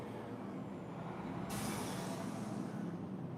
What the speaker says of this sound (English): So there goes a construction truck.